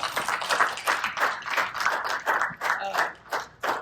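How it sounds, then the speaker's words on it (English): An audience at a community gathering claps by hand for a speaker taking the floor. The clapping is quick, steady and fairly close, with a few voices mixed in for under four seconds. "Give her a hand clap."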